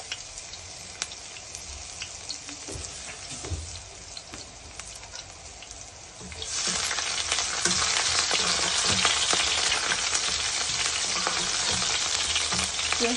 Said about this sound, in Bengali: প্রথমে মাছটিকে আমি একটু তেল দিয়ে, মরিচ পেঁয়াজ দিয়ে, একটু গুঁড়াগুড়ি দিয়ে কষিয়ে নেব